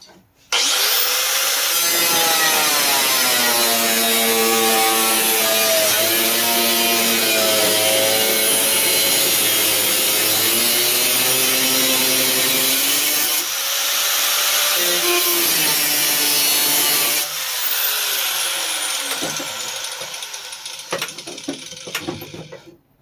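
A saw cuts steadily into a Tonka toy truck, close and loud, a continuous grinding rasp with wavering pitch that shifts slightly midway and trails off near the end; no talking over it.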